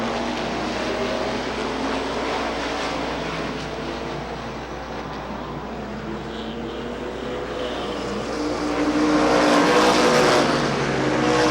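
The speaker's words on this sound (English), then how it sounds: "Look out, some paint exchange between Guiley and Spicky." Stock cars roar around Rockford Speedway during a 40-lap feature race, a loud continuous engine drone swelling and fading as the pack passes, growing louder near the end.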